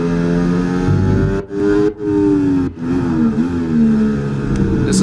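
A Formula 1 car engine in EA Sports F1 24 at the Australian Grand Prix screams at high revs with tonal harmonics, dropping sharply at several quick upshifts before climbing again, loud and continuous.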